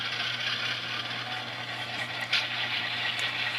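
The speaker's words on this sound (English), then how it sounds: "this is equipped with a Tsunami sound decoder, 16-bit quality sound, really awesome" An Athearn Genesis Santa Fe F7a model locomotive with a Tsunami sound decoder plays its diesel engine sound: a steady, low idling rumble with a constant hiss, fairly quiet and close, with no talking.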